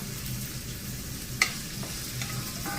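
Ginger and garlic frying with coconut in a pan, giving a steady soft sizzle with a single sharp clink of a utensil partway through, close and continuous, with no voice.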